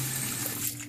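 Lukewarm water pours steadily into a Lilumia makeup brush cleaner, a continuous close rushing and gushing with a low hum underneath. It lasts under a second, with no voices.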